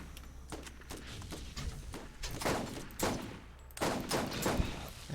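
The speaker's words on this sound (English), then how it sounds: "He's getting shot by his own turret." Turret gunfire in the Borderlands shooter, quick bursts of rapid shots in irregular clusters, fairly close with other game noise around them.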